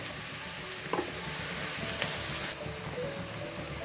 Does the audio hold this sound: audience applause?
no